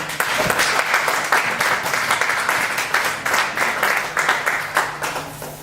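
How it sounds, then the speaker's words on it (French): Church congregation at a Sunday worship service applauding together, a steady dense wash of many hands clapping throughout, close and loud, with faint voices mixed in. "Est-ce que vous pouvez vous acclamer vous-même?"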